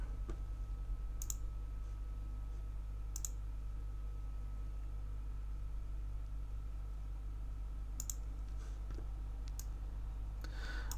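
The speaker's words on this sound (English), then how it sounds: "Just keep clicking on it." A computer mouse gives a few sparse, faint clicks, single or paired, spaced over a steady low hum and background hiss, with no voices.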